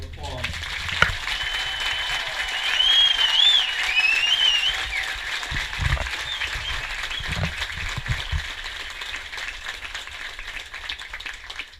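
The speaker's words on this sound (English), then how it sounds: "Let's please give all these soldiers a big round of applause." Audience applause for soldiers at an infantry OSUT graduation ceremony, a steady sustained roar of clapping in a large space that swells after the first few seconds and holds, with scattered cheers and whistles on top.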